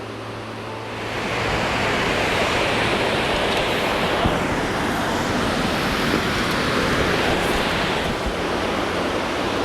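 Triple Falls in Western North Carolina roars as a steady, full-bodied rush of falling water, swelling in after the first second and holding loud and even throughout with no voices.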